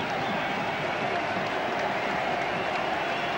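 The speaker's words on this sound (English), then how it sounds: "Well, the crowd show what they think of it." A cricket crowd applauding a boundary four, a steady, even wash of clapping and murmur from a large stadium audience, sustained at the same level throughout.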